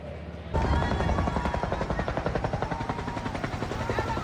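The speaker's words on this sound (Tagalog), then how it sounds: "Nagbuhos na ng tubig mula sa helikopter para maapula ang malaking sunog" A helicopter drops water onto a large fire burning homes in Tondo, Manila, its rotor thumping loud and rapid after a sudden onset, a dense rhythmic chop that continues to the end.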